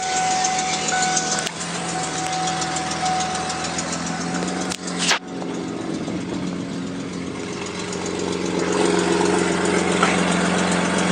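A car engine idles steadily close by with a slight uneven flutter, a brief clunk midway, then a slightly louder hum toward the end.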